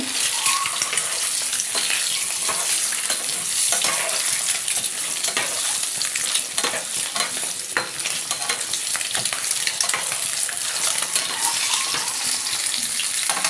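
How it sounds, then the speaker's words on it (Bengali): An egg seasoned with turmeric, salt and chilli powder fries in a pan, giving a loud, steady sizzle and crackle close up that lasts throughout with no talk. "ডিমটা ভাজা হচ্ছে"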